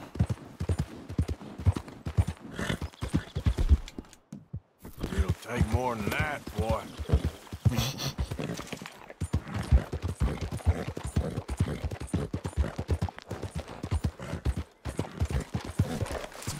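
Horse hooves clip-clop in rapid, galloping rhythm in the video game Red Dead Redemption 2, steady and close throughout, with a voice talking over them and a brief neigh mid-way.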